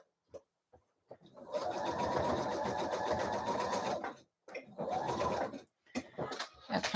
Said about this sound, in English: I am just sewing the collar in with just a normal straight stitch.